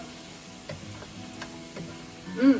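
Chicken chow mein vegetables stirred in a hot pan, with soft scraping strokes over a faint steady sizzle, ending in a louder clatter of the utensil.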